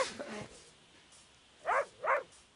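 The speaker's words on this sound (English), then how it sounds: "Oh, it's probably the dog." Dog making noise in a nearby room, two short yips or muffled barks in quick succession after a brief stretch of soft background sound, fairly faint and indoors.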